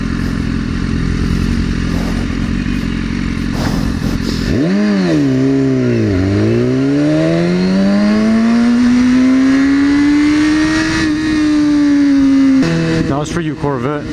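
Lamborghini in race mode accelerating hard, its engine note climbing and dropping through gear changes, then rising steadily in a long loud pull before easing off, with mechanical clatter.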